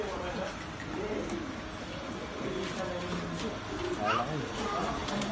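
Pigeons coo softly in a loft in a low, repeating rhythm, with chatter and scattered chirps around them; people talk nearby.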